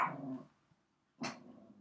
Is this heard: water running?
no